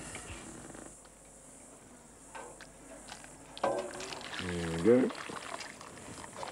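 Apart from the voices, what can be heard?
hot water poured into a mug with bush lemon grass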